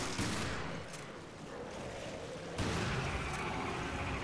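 Gunfire in the video game Resident Evil Revelations, with dense, crackling bursts of shots that run continuously at moderate loudness and surge again partway through.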